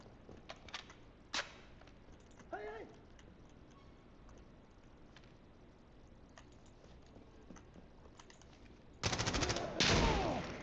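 Gunfire in the tactical shooter Insurgency Sandstorm: scattered distant shots and pops across a quiet background, then two loud, dense rapid-fire bursts close by near the end.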